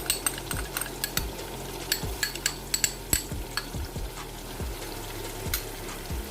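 Noodle masala with tomato paste fries in a pan while a spoon stirs it, giving repeated sharp scraping clinks against the metal in an uneven rhythm over a soft, steady sizzle.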